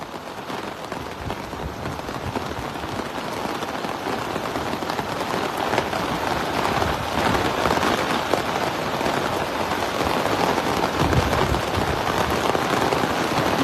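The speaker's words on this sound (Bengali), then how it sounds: "দুবাইয়ের বুকে এত বৃষ্টি আর হয় না এর আগে।" Heavy rain pours down in Dubai, a dense continuous hiss of drops pattering on surfaces, close and steady throughout with no voices.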